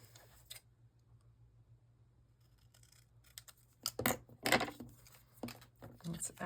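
Scissors snip through card paper during card making, a few quiet scattered cuts at first, then a busier run of crisp close snips and rustling handling that grows louder toward the end.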